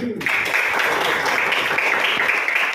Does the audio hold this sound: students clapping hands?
yes